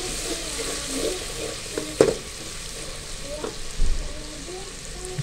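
Chicken and chana daal with spices fry and sizzle steadily in a pan while a spoon stirs. Sharp scraping clinks come at two points over the continuous close crackle.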